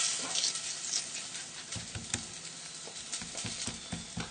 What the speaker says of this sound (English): just give our potatoes a little move around the pan again